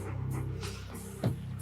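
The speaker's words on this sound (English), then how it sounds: "There's the dog." Dog in the film Home Alone 3, panting and soft whimpering sounds at moderate volume, with a brief sharper yip or bark near the end.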